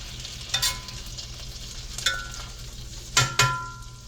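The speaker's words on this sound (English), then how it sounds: "just trying to get the butter melted" Butter melting in a pan: a soft steady sizzle, punctuated by a few sharp spatula taps and scrapes against the metal, with no voices.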